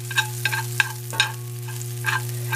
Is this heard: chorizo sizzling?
yes